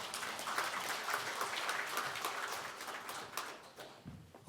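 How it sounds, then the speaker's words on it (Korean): An audience at a Buddhist spring dharma service in the National Assembly applauds, giving a few seconds of soft, steady, rather distant clapping that fades near the end. "큰 박수로 맞아주시기 바랍니다."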